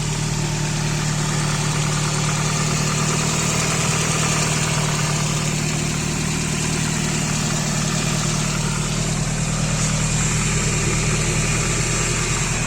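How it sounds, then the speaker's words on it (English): A car engine idles steadily and loudly after first starting, a constant low rumble with a mechanical hum and no pauses, while heat wrap smokes. "There we go. The engine is actually running."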